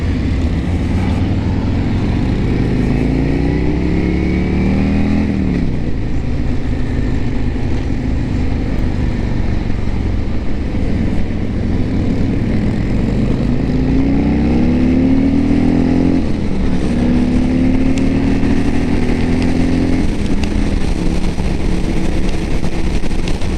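A 2022 Harley-Davidson Road King Special cruising at speed, a loud, steady V-twin drone under heavy wind rush, the engine note rising and falling slightly as the throttle shifts, with no talking.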